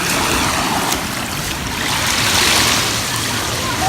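Waves break at the sea shore in a continuous broad wash, loud and steady with no pauses.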